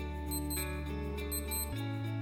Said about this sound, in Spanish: nos dice cómo sonará la alarma, mientras que en el modelo de SKMI no pasa absolutamente nada.